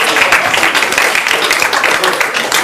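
Applause from an audience gathered after a record-breaking attempt on a Flemish comedy show, a dense, steady patter of many hands clapping at close range throughout.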